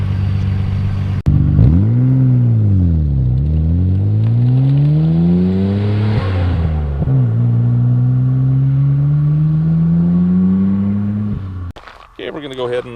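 A 1990 Nissan Skyline GT-R with its twin-turbo engine revs up and down in sweeping, loud swells, then settles into a steady high drone before cutting off abruptly.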